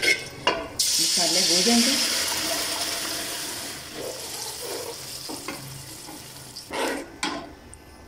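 Chicken Afghani karahi gravy fries and bubbles in a pan, with a loud sizzle and scraping stir strokes early on that settle into a softer simmering crackle, a voice briefly speaking over it.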